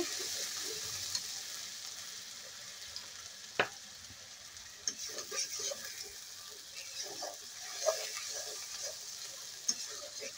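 Spice pastes of dried and green chili, onion, garlic, cumin and mustard sizzle in hot oil, a steady close frying hiss broken by occasional scrapes and clacks of stirring, with no talk.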